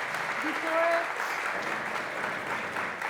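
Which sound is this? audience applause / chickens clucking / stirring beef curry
audience applause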